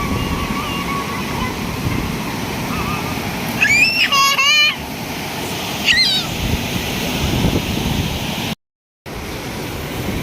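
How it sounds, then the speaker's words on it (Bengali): Sea waves wash steadily onto the beach at Mandarmani in a continuous broadband roar, with voices and a child's cry breaking through briefly in the middle. "সমুদ্রের ঢেউটা"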